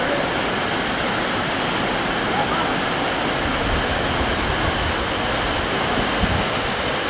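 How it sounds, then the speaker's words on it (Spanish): Heavy rain pouring down in Jabalí, a dense, steady roar of water that holds constant with no breaks, with no voices over it. "Está lloviendo recio."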